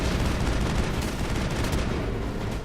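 Dense, continuous gunfire in the video game Mass Effect, rapid overlapping shots filling the whole stretch loudly with no pauses and no voices.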